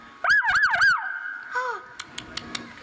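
A short wailing siren pattern rises and falls a few times, followed by a brief lower whoop and several faint clicks.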